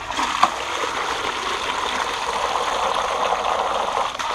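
Dirty water taken from a pond is poured in a steady, continuous splashing stream for a bamboo water filter demonstration, heard close up with no talking.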